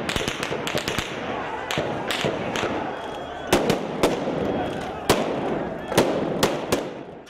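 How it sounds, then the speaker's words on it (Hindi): Sharp gunshot-like cracks of police opening fire on a protest ring out irregularly, some in quick clusters and others spaced apart, over a murmuring crowd and background noise. "तो पुलिस ने गोलियां चला दी।"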